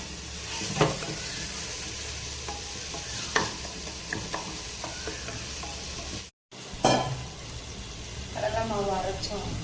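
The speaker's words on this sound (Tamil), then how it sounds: "நல்லா வதக்கிக்கிறேன்." Onions and other vegetables stirred and sizzling in a pan over a medium flame, with scraping strokes of a utensil and a steady frying hiss, a brief pause midway.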